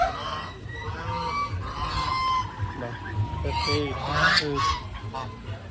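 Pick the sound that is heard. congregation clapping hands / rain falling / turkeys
turkeys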